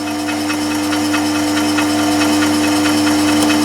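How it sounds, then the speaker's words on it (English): A Myford ML7 lathe runs steadily during reverse-spindle screw-cutting, giving a constant close motor hum with a faint, even mechanical whir and no voices. "lever up on the ML7 and let it do its work"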